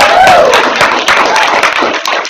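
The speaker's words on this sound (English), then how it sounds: "round of applause for Mike" Brief applause for a presenter at a business meeting, scattered clapping at close range with voices overlapping.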